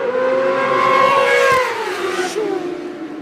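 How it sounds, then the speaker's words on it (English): Drag racing motorbikes launch with wheel spin at a strip, a loud, close, high whine that holds and then bends downward as the bikes pull away, with no talk. "I can hear the wheel spin on the bikes here."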